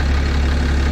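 A 6.7 Cummins diesel engine with 859k miles and suspect injectors idles during a high-pressure fuel system test, a loud, steady low-pitched rumble with even rhythmic knock, heard up close with no talking.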